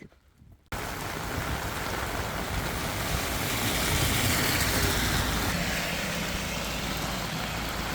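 Heavy rain pours steadily and densely after a brief quieter start, a loud continuous roar of drops with no voices.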